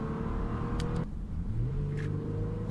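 A Toyota Land Cruiser engine revs and pulls steadily while accelerating through town with a Pedal Commander throttle controller fitted, heard close from inside the cabin, a constant drone with a rising tone shift partway through.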